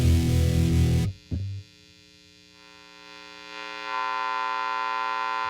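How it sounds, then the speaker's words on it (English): An electric guitar through a distortion pedal at full distortion: a loud saturated chord cut off abruptly, a brief stab, then a quiet sustained distorted tone that swells slowly and hangs on. "So let's just go full on distortion."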